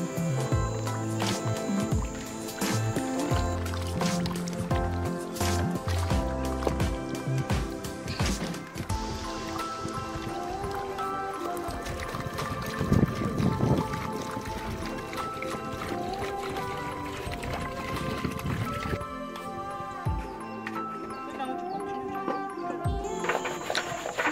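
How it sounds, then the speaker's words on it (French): Cassava pieces are washed and rinsed in water, with continuous splashing, sloshing and squelching of the pieces being handled, close and busy throughout. "on va continuer à laver encore et encore le manioc. On va rincer environ 5 fois"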